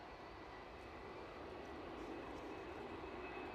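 Faint and distant, an ATR turboprop airliner at a windy airport gives a steady, continuous engine drone with a thin tonal hum, no voices present.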